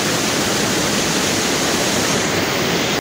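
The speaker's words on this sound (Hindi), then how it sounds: "ये देखे पानी का कितना शोर है जो इस वक्त आ रहा है पानी" Loud, steady roar of fast-flowing water rushing past a water-powered flour mill (aata chakki), a dense continuous wash of sound at close range that cuts off abruptly at the end.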